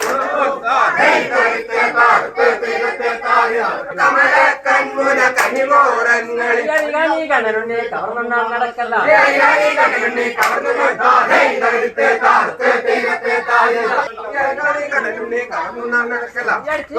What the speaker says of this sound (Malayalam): പൂരക്കളി പന്തലിൽ നിന്നാണ് ബാല്യക്കാരുടെ സംഘം ആർപ്പുവിളികളുമായി യാത്ര തിരിക്കുന്നത്